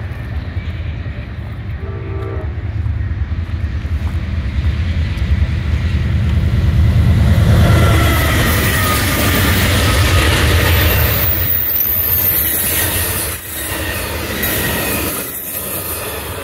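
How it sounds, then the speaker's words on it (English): An Amtrak Coast Starlight passenger train rumbles past at close range at Suisun-Fairfield, wheels clattering on the rails with a faint squeal, the roar swelling and then slowly easing off. "Now there goes Coast Starlight train 11 to Los Angeles Union Station."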